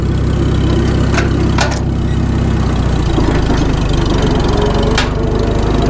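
An old Farmall tractor engine runs steadily and loudly up close in gear, with rear-end gear whine under a constant mechanical drone, broken by a few sharp clanks.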